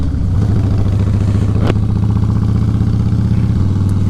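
Several motorcycles pass close by with a loud, steady, throbbing engine drone that holds for about four seconds, with one brief sharp clack partway through.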